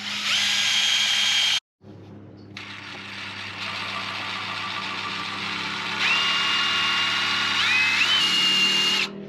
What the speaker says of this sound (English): We just did self-tappers right here to drill it in